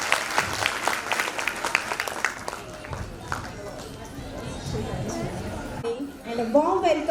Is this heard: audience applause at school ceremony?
yes